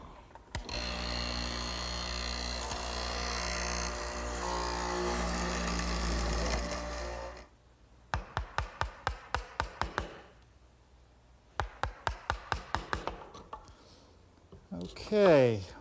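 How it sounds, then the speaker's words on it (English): A steady machine drone fills the first half. It is followed by bursts of quick, sharp chisel taps in rapid runs as a chisel cleans out a dovetail mortise in wood, with brief pauses between the runs. "then I'll clean up the rest with a chisel."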